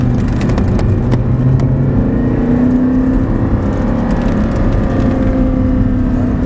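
An Audi R8 engine runs on a cone driving course, shifting down while braking. Its drone holds steady and loud throughout, with the pitch changing slightly as the gears drop.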